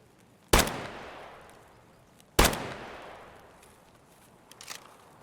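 Two sharp, loud rifle shots ring out about two seconds apart in an Escape From Tarkov firefight in the woods, each with a long echoing decay, followed by faint softer pops near the end.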